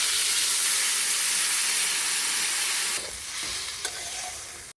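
Taro and fish curry bubbling in a pan just after broth is poured in, a steady loud sizzle and hiss that drops slightly after a few seconds, with faint stirring clinks and no talking.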